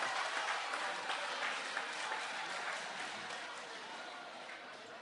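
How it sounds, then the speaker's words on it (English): Audience applause at a parish forum held in a high school hall, a dense, steady round of clapping from a sizable crowd that gradually fades toward the end. "One more round of applause for the People's Prime Minister"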